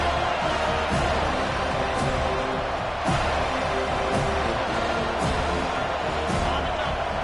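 Steady roar of a stadium crowd at a Florida State college football video game, a dense continuous wash of massed voices with a few sharp knocks and claps rising from it throughout.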